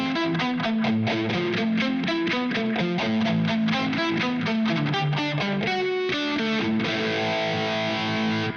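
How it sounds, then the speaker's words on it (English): Electric guitar riff in a brown-sound style, driven through distortion with echo and phaser effects, plays continuously and loud with rhythmic picked notes and repeating echoes, no talking. "have a listen to the echo and the phaser when I play that riff."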